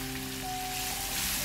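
Chopped onion hitting hot oil in a pan, a steady close hiss of frying with a faint constant hum underneath, no voices.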